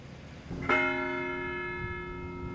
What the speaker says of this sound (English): Then bells.